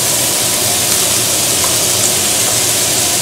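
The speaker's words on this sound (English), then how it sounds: "while your Italian sausage is cooking, I like to go ahead and throw my onions" Italian sausage and onions sizzling in a pan, a loud steady hissing crackle of frying that holds evenly throughout without pause.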